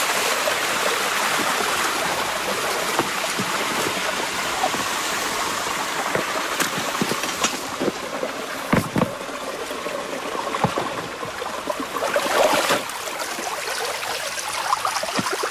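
Water rushes steadily along a levada irrigation channel, a loud, continuous, close babble and splash with no pauses, carrying on alone for the whole stretch.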